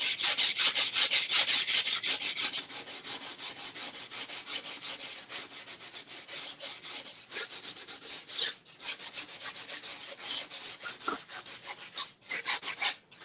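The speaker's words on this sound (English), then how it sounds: "I'm going to hit it with a little bit of sandpaper real quick, right in that one." Sandpaper rubbed by hand over a wooden Christmas sign, a close, steady rasping scrape in quick back-and-forth strokes with a few brief pauses, no voices.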